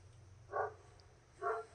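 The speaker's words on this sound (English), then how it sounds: "Sorry for the barking dog." A dog gives two short, moderately distant barks about a second apart over a quiet low hum.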